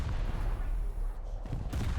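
Naval guns aboard a warship in War Thunder fire heavy, deep booms that roll out in a low, rumbling barrage, loud and close, with a sharper report near the end.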